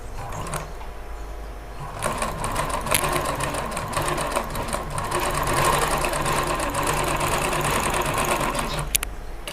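A zigzag sewing machine runs steadily while stitching a pico edge along a saree border, giving a continuous close mechanical whir and rapid needle clatter for several seconds, starting after a brief quieter moment.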